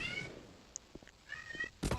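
A pet cat meows twice at the start and again near the end, close but fairly quiet, with soft thumps and game noise in between.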